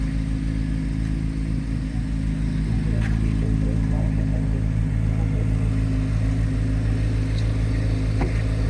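A Chevrolet Corvette C8 Z06 with raised oil level and a suspected faulty fuel system idles after a cold start, a loud, steady, deep engine drone with a low rumbling exhaust note and no voices.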